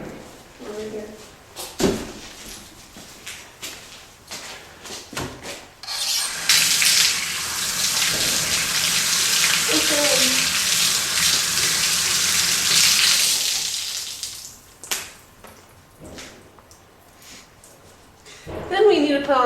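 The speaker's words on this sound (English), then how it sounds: "First, we need to wash our hands." Tap water runs steadily for hand washing in a dairy barn, a broad hissing flow lasting several seconds, with a person talking before and after and brief clunks around it.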